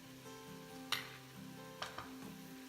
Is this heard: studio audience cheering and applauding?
no